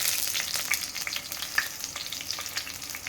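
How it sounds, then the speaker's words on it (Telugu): Garlic cloves frying in hot oil for a dal tempering, a steady dense crackling sizzle with scattered sharper pops, close and continuous for a few seconds with no voices. "ఎల్లిగడ్డలు నల్లగా అయితేనే పప్పు అనేది టేస్ట్ వస్తుందండి."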